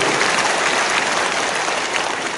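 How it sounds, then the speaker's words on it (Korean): A church congregation at a national prayer service marking the centenary of the March 1st Movement breaks into dense, continuous applause, an even rain-like patter with no voices over it. "함께 박수로."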